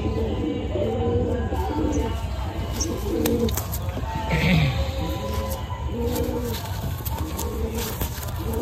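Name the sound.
Madrasi pigeon cooing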